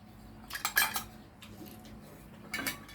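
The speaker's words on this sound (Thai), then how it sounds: "ต้องตักไว้ ให้มันเย็นหน่อยนึง" Cooked food is scooped out of a pot with a metal utensil, giving a few brief scraping clinks against the pot in quick bursts at close range with quiet pauses between.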